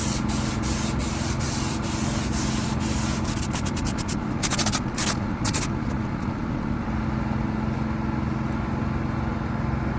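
A spray gun lays a final coat of silver paint on a car bumper during a mobile repair job, a steady close hiss running throughout with a few sharper bursts midway and no talking.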